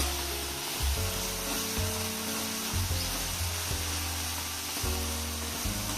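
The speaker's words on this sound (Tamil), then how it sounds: "அதுக்காண்டி தான் அது கூட போட்டு பூண்டை வறுக்கிறது" Garlic frying in oil in a pan, a continuous close sizzle under a low, repeating hum that pulses at regular intervals, with no one talking.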